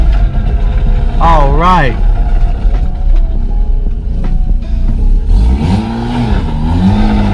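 A Mazda RX8 engine with a replacement transmission and new aftermarket clutch revs loudly through a gear change, pitch rising and falling in two swells under steady engine drone while a voice briefly speaks.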